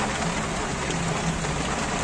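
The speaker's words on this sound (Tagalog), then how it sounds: "Lakas ng ulan." Heavy rain pours steadily outdoors under a dark sky, a dense continuous hiss of drops drumming on surfaces with no break, close and loud.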